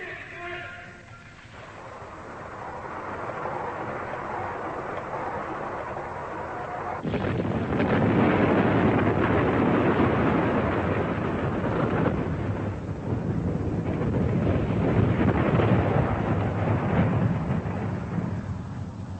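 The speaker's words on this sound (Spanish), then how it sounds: "China hizo estallar su primera arma nuclear." A massive nuclear weapon detonation, China's first atomic test, erupting as a sudden deep, loud roar that swells and rumbles on continuously with broad, thunderous noise.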